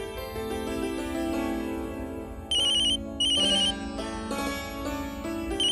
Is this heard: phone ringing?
yes